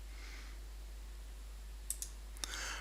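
Computer mouse clicks while drawing in Fusion CAD software, a few quiet, sharp clicks close together near the end after a stretch of near silence.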